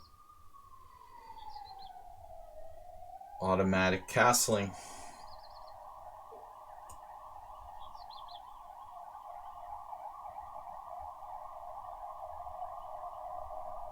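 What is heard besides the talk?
ambulance siren passing outside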